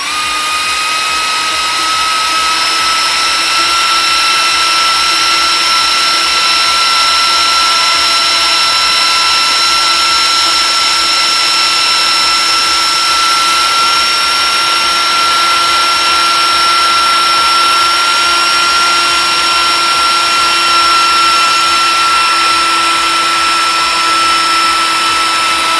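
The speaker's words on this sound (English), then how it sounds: "we're just gonna slowly take our die grinder and we're just gonna massage these little tabs off." A die grinder whines at a constant high pitch while grinding plastic tabs off a Nissan Xterra audio upgrade part, loud and unbroken for the whole stretch.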